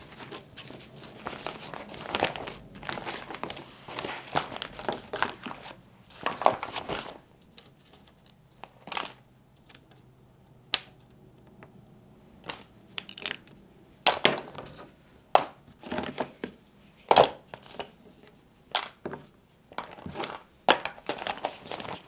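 Toiletry gear is packed into a Matador FlatPak roll-top kit, making quiet, close, intermittent crinkling, rustling and soft tapping of fabric and items being handled, with no speech.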